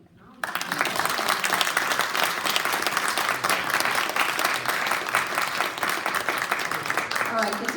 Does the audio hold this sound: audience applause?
yes